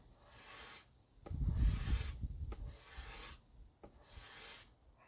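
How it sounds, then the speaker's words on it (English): A red oak longbow limb being scraped on one side, giving soft rasping strokes in slow bursts, fairly quiet and close, with short pauses between passes. "So scrape on this one just a little bit more."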